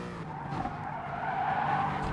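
Tires squeal steadily under hard braking in the GT Sport racing game, a sustained pitched screech blended with car engine noise, loud and continuous for about two seconds with no talk.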